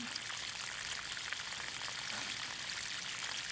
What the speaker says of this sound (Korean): 가뭄 때 이 방법으로 물을 주면 비가 오는 것과 가장 근접한 효과에 물 주는 방법입니다